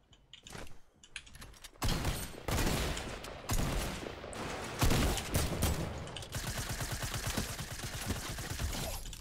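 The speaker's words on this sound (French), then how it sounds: "Je lui ai mis 2 balles de pompe tactique, et là, je lui ai mis 3 balles de PM" Fortnite gunfire from a tactical shotgun and an SMG: a few heavy blasts followed by rapid rattling bursts of shots, loud and close, mixed with clicking keyboard taps.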